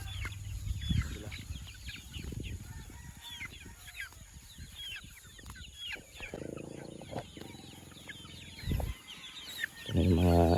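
Chickens and young chicks clucking and peeping close by, with busy overlapping calls and a few louder bursts of clucking toward the end.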